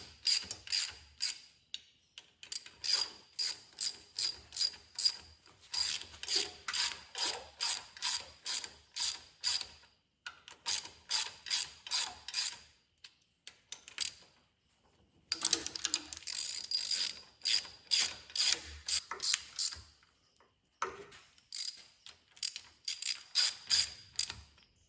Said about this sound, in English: now we're going to take a ratchet and get them down to the surface of the head